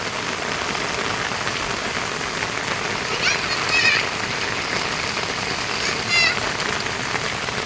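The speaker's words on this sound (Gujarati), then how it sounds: "ખરેખર એકદમ ત્રાસો વરસાદ પડે છે" Heavy rain pours down in a constant loud hiss, with a couple of brief faint chirpy sounds rising above it partway through.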